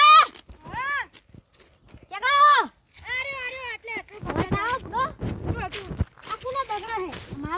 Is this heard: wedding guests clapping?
no